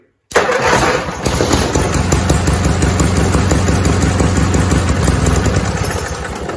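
A Cub Cadet 482 garden tractor repowered from 11 HP to a 12.5 HP opposed-twin engine cranks and catches abruptly, then settles into a loud, close, steady idle.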